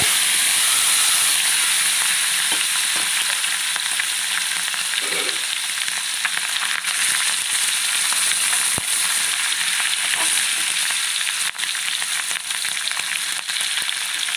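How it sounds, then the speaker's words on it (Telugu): A fish roe mixture fries in hot oil in a pan, a loud continuous hissing sizzle with faint crackles and occasional sharp pops, heard alone without speech. "ఆయిల్ వేడెక్కింది ఇప్పుడు మనం ముందుగా కలిపి పెట్టుకున్నది ఇలా వేసేస్తాం"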